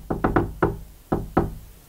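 Knocks on a door in the video game Star Kidz: three quick raps, a single knock, then a pair, crisp and close with no voices.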